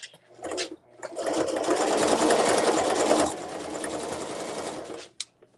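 A sewing machine stitches a zipper tote bag in one steady, fairly loud run of about four seconds, starting after a brief burst and ending abruptly. No one talks over it.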